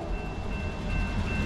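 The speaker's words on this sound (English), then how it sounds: "Third train of the day. Here it comes." A Norfolk Southern coal freight train, led by EMD and GE Dash 9 locomotives, rolls past nearby at 48 mph with a loud, continuous rumble and metallic rail noise, with a faint high tone running through it.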